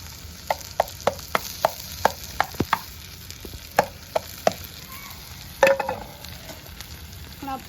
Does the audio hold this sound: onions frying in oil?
yes